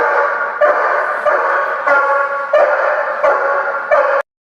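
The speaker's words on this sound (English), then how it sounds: "The dog starts barking at the person." A protection dog barks repeatedly and loudly at a person, in about six sustained bursts of harsh, close barking that end abruptly.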